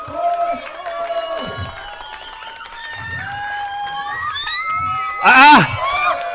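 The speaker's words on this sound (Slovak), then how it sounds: "Takže poď Samo, toto chce naozaj poriadny potlesk." A crowd at the Slovak UCI trials cycling championship cheers and claps for a rider, with a loud excited burst near the end over a commentator's ongoing voice.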